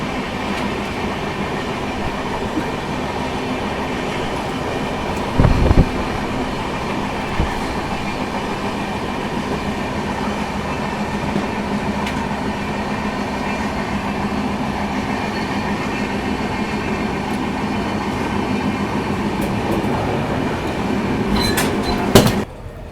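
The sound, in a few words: Amritsar New Tinsukiya Express train moving out of Jalandhar City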